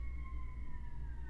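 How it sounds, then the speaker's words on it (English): A fire engine siren wails at a distance, its steady tones slowly falling in pitch over a low rumble of traffic. "Oh, fire truck going by."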